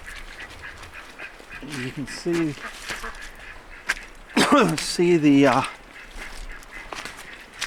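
Ducks on an off-grid homestead give several loud honking quacks in short clustered bursts, close by, with a faint outdoor background and brief talk over part of it.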